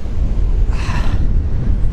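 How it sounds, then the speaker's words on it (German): Blustery wind buffets the microphone on a beach with a steady low rumble, swelling into a brief stronger gust in the middle. "Es ist mega windig"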